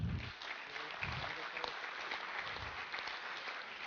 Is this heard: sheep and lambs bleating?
no